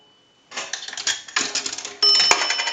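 A nickel dropped into a Northern Electric 233 payphone, giving a run of metallic rattling clinks as it travels through the coin mechanism, then a brighter ringing chime, close and loud with no talking.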